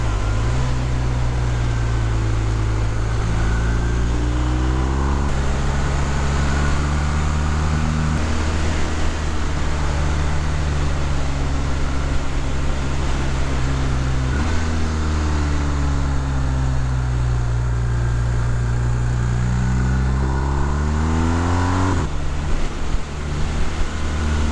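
A 2019 BMW R1250R Sport motorcycle ridden along twisty backcountry roads, its engine droning loud and close throughout, the pitch climbing and dropping again and again through gear changes and corners, over constant wind rush.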